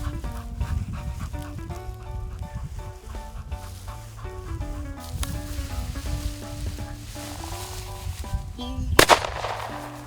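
A single sharp shotgun blast goes off near the end during a hunt for wild bobwhite quail, standing out over a bed of steady background music.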